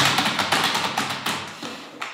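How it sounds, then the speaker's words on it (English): Computer keyboard typing clicks in quick, uneven bursts of close taps, without voices. "The typing is already good because that's everything I hear from you for the past month."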